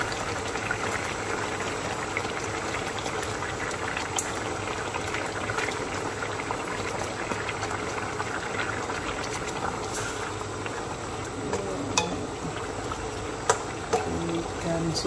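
Fish curry with tomato and round purple eggplant simmers in a pot, giving a steady, quiet bubbling throughout with a few faint clinks near the end.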